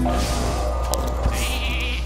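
A sheep bleats in the card game Hearthstone, a loud wavering call over steady game sound and a low hum, with a few brief clicks and chimes mixed in.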